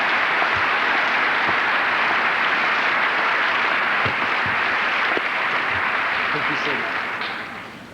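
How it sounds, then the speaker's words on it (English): A large audience at a 1984 high school baccalaureate ceremony applauds steadily, a dense wash of clapping that holds for several seconds before starting to fade. "let's give them a round of applause"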